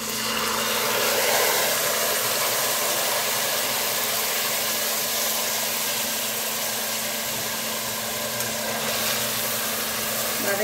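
Ripe chopped tomatoes sizzle with garlic in a hot pan, a steady broad hiss that holds close and loud throughout with no pauses.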